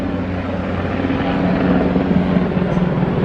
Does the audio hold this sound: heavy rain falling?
no